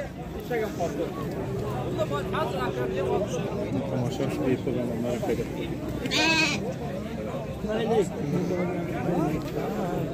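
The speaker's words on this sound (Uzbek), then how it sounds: "Mana akalarimizning qo'shqorlari" Several sheep and rams bleat repeatedly amid a busy outdoor livestock market crowd, with people chattering nearby throughout.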